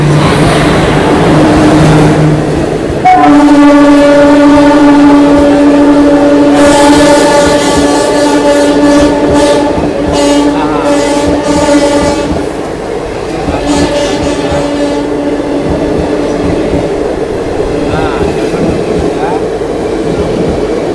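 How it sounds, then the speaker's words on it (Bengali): A passenger train on the Chennai to Kolkata run pulls away after a half-hour halt, heard from near the open door: a loud continuous rumble and clatter, with a sustained horn-like tone ringing through the early part. "প্রায় আমাদের ট্রেনটা 30 মিনিট এখানে দাঁড়িয়ে ছিল, তারপরে এই ছাড়লো।"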